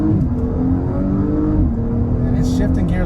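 An Audi S5 engine pulls hard at wide open throttle from inside the cabin, a steady loud low drone rising through the gears with a muted character, while a voice talks over it.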